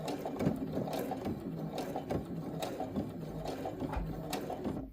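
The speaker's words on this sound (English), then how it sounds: "we're going to continue sewing forward, keeping the edge of the fabric lined up with the seam guide" A sewing machine stitches a fabric seam forward in a steady, close mechanical whir with fast rhythmic clicking that runs unbroken throughout, with no voices.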